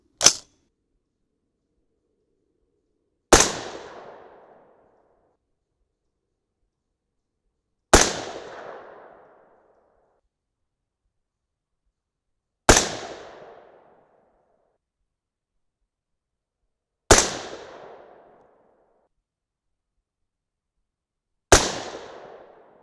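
A 6.5 Creedmoor rifle firing 140-grain Speer Gold Dot loads cracks six times at a range, sharp loud reports spaced several seconds apart, each trailing off in a brief echo.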